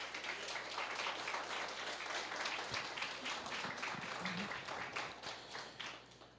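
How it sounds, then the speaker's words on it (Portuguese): A church congregation applauds during a sermon, a dense, steady wash of many hands clapping together for several seconds, with faint voices mixed in. "Aplauda o Senhor Jesus por isso"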